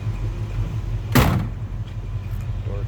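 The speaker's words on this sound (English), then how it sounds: "Door closes nicely." The door of a 1966 Ford Mustang convertible shuts in one solid thud over the steady low rumble of its idling 289 V8 engine with a GT-style exhaust.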